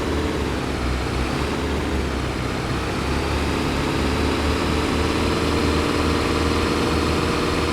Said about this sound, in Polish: Ale ten traktor jest jakiś na szybki